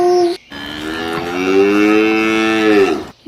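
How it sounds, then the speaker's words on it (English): A cow gives one long, loud, close moo that holds steady for almost three seconds, alone and with no talk. "C for cow"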